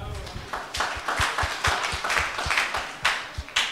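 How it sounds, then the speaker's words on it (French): A group of children claps in a rhythmic, even beat during a Bible lesson, each clap sharp and close, while voices murmur underneath. "Bravo, on l'applaudit."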